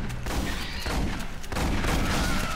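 Dense, rapid shotgun blasts and booming gunfire fill the scene in Aliens: Colonial Marines, loud and continuous with little pause, almost no talk over it.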